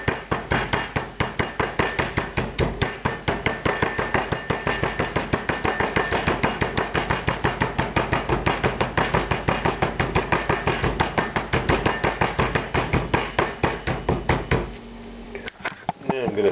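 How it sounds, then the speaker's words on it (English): Rough-textured face of a meat mallet pounding chicken flat on a board, a fast, steady run of sharp thuds repeating for about fifteen seconds before stopping, close and distinct. "I'm going to use the rough edge of the mallet. Flatten it out."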